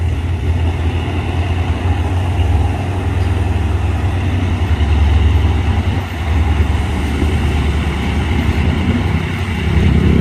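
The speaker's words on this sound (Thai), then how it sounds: "โอ้โหเร่งเครื่องไปแล้ว" A diesel freight locomotive hauling an express parcel train on the Rama–Bang Sue line in Thailand rumbles steadily as it accelerates, with a loud, continuous low engine drone and broadband noise throughout.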